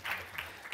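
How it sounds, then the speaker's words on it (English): Audience in a conversation event breaking into a brief burst of applause, a light patter of scattered claps, faint and short. "That should be our second clap for the night."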